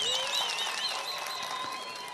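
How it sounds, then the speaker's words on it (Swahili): Applause from a political party recruitment rally crowd in Nyamache, Kisii County, Kenya, a dense, steady wash of clapping that carries on evenly throughout with no clear pauses. "Jipigieni makofi kwanza"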